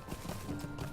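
Horse hooves in Lord of the Rings Online, a quick run of soft clip-clop steps from a mount close by, heard alone with no talk.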